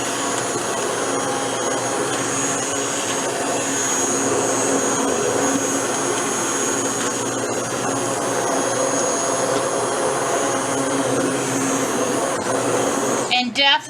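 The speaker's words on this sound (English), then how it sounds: "Probably my favorite kitchen utensil is my immersion blender." A loud, continuous motorized whirring of an immersion blender blending squash soup steadily for a long stretch, ending abruptly as a voice begins.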